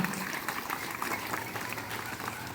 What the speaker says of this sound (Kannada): ನಮ್ಮ ರಾಜೇಶ್ವರ ಅವರಿಗೆ ಗಟ್ಟಿಯಾದ ಚಪ್ಪಾಳೆ ಮೂಲಕ ನಾವು ಅವರಿಗೆ ಶುಭವನ್ನು ಕೋರೋಣ